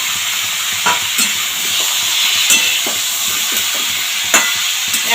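Vegetables and bori (sun-dried lentil dumplings) frying in a pan, a loud steady hiss with repeated spatula scrapes and knocks at irregular intervals, close and without speech.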